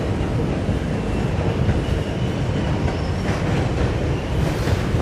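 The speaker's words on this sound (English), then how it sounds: "I'm on the 5 train." A New York City 5 subway train rides an elevated track in the Bronx with a dense, continuous rumble, rhythmic wheel clatter and a faint squeal, loud and close throughout.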